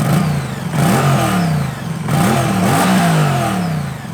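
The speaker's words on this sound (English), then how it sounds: "As for the exhaust sound, it's a little bit more modern." Moto Guzzi V100 Mandello V-twin exhaust revs loudly and close, with two rising blips that fall back in a barking, modern-toned rumble.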